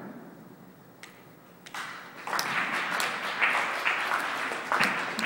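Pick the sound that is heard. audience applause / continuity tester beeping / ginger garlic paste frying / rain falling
audience applause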